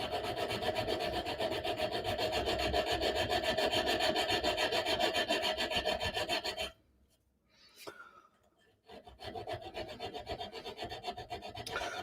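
Hand files rasp back and forth against a stiletto dagger's metal guard in a close, steady scraping rhythm that stops for a few seconds and then resumes.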